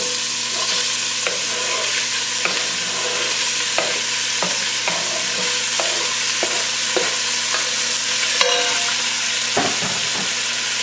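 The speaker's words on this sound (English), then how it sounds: "Now I'll take my pan that's still hot and put the sausage in and brown it." Sausage browning in a hot pan with bacon grease, a loud continuous sizzle close up, broken by repeated scraping stirs and clacks of the utensil against the pan, with no talking.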